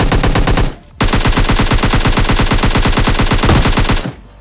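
Loud rapid automatic gunfire in PUBG Mobile Lite, a fast regular stream of shots that pauses briefly near the start, then resumes in a long unbroken burst before cutting off.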